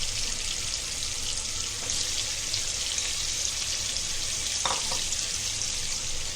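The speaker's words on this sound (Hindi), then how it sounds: "कढ़ाई में चिकन डालेंगे और अच्छे से भुनेंगे उसको" Steady, dense sizzling of chicken frying in hot oil in a wok, continuous throughout with a couple of brief clinks of a utensil against the pan.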